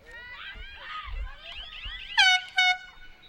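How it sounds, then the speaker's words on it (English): Two loud blasts of an air horn mark the end of a high school field hockey game, following faint crowd murmur and other honks, with a commentator's voice in the background. "the air horn sounds the end of this one"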